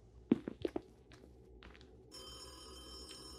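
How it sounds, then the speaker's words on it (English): A telephone ringing in the horror video game Hotel Greenwood: a few sharp, fairly faint ring bursts near the start, followed by a steady tonal hum with no talking. "The phone is going off now."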